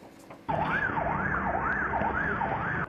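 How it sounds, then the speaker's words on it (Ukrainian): A wailing ambulance siren in Mariupol after a terrorist attack sweeps up and down in a steady, repeating cycle, loud and close, starting abruptly after a quieter moment of background noise. "Сирени швидкої"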